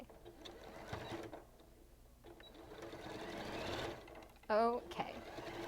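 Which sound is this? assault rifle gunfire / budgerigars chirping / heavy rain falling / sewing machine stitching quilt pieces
sewing machine stitching quilt pieces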